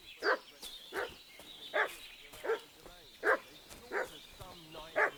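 A dog in a medieval Bohemian village in Kingdom Come: Deliverance II barks repeatedly, about eight evenly spaced barks at a moderate distance, each standing out clearly against a quiet game backdrop.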